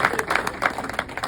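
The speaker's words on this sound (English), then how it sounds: "I'll pause for applause." Brief scattered applause from a conference audience at a software keynote, a short burst of claps mixed with nearby voices.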